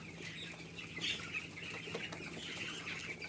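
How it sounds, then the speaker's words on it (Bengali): Thirteen-day-old broiler chickens feed together in a shed, with faint, soft clucks and peeps and a low steady hum behind them. "মুরগিগুলো মাশাআল্লাহ খুব সুন্দরভাবে খাবার খাইতেছে, সবগুলো একসাথে।"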